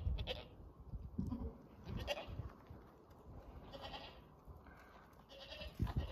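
A young goat kid, the offspring of a hornless nanny goat, bleats several times in short, fairly faint calls spaced across the clip, with soft farmyard noise in between.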